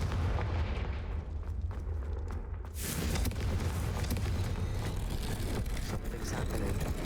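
In the video game Hogwarts Legacy, a Confringo spell blast erupts from dense rumbling combat noise as a sudden loud burst, followed by continuous booming, crackling impacts.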